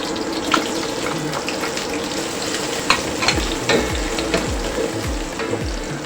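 Garlic and onion fry in a pan for a vegetable soup, a steady crackling sizzle with stirring scrapes and occasional low clunks of the spoon against the pan, close and continuous.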